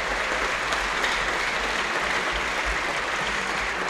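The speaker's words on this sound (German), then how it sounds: "Dein Applaus." Audience applause at a football club's season-opening training event in Offenbach, steady broadband clapping filling the whole stretch at an even, moderately loud level with no talk over it.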